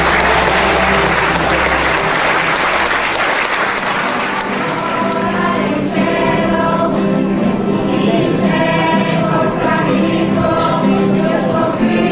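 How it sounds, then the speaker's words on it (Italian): Audience applause for volunteers at a Christmas 2016 gathering in Santa Maria Coghinas, Italy, loud and sustained throughout, with music tones joining partway and a faint voice underneath. "Vorrei fare un applauso ai volontari che hanno lavorato."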